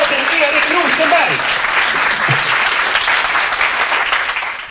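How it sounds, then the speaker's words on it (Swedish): Audience applause for a comedian walking onto a stage: loud, dense clapping from a crowd that holds steady for several seconds and tapers slightly at the end, with a voice speaking over it. "Det är en stor applåd till Erik Rosenberg"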